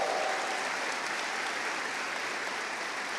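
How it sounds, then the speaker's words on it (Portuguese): A church congregation applauding, steady dense clapping from many hands throughout, evenly loud and filling the room with no voices over it. "Aplauda o Senhor!"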